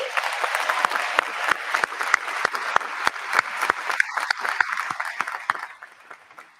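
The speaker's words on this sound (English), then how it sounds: "But let's give them a round of applause anyway." An audience at a university employee recognition ceremony gives a steady round of applause, dense clapping with sharp individual claps standing out, tapering off near the end.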